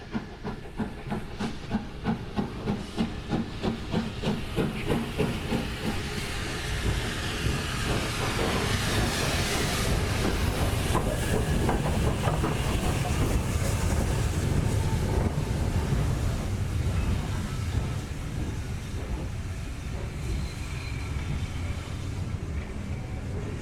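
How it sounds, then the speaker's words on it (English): A steam train on the Watercress Line pulls in at a station, a loud, continuous hiss of steam over rhythmic chuffing and rumbling wheels that slowly eases off, with no voices. "And then the steam train arrived, which we are getting on"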